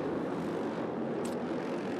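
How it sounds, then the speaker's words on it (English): A loud, steady roar of Harley-Davidson bagger racing motorcycles revving at a race start at Road Atlanta drones continuously, with a brief high squeak near the middle and no talking. "Revs are up, and we're away."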